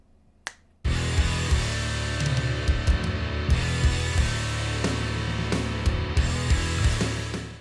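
A processed kick drum from a home recording thumps repeatedly, punchy and deep, inside a dense, loud drum-kit pattern with bright cymbal wash.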